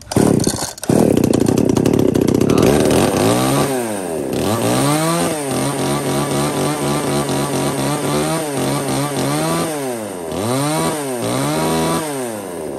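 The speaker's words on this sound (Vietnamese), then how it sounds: "Rồi anh em giật." A small Japanese top-handle chainsaw is started with a pull cord, firing loudly after a burst of tugging, then idling and revving in repeated swells close by with no voices.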